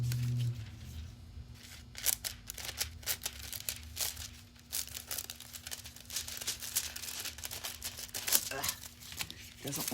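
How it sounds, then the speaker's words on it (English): Scissors snip and crinkle through paper and silver decorations for Christmas cutouts in irregular, close bursts of cutting and rustling. A low steady hum runs underneath, and a voice talks over parts of it. "Scissors don't always want to cut the way I want them to cut."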